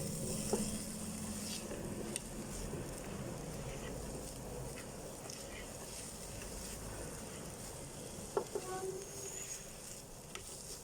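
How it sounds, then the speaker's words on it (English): Chopped onions sizzle and brown in a pan for Kenyan githeri, a steady, fairly quiet frying hiss broken by a few small pops and clicks. "Now as you can see, the onions are nicely browning off."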